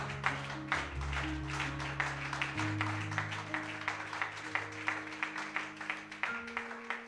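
Church congregation applauding during a sermon: steady, fairly distant clapping from many hands while sustained organ or keyboard chords play underneath, no talking.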